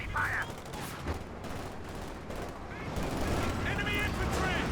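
Rocket artillery and battle gunfire in Company of Heroes 2, a dense ongoing barrage of bursts and crackling shots under a commentator's voice.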